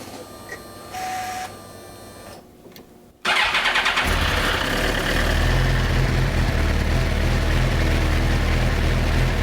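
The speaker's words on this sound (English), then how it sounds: "Let me go ahead and turn on the key and I'll start the engine." A motorcycle engine cranks and catches after a short quiet stretch, then settles into a steady, loud idle that continues to the end.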